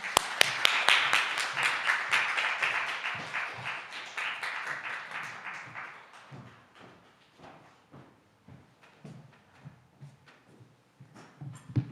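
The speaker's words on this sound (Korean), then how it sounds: "큰 박수 부탁드리겠습니다" A church congregation at a Sunday youth worship service breaks into dense, close applause that thins out after about six seconds into scattered individual claps.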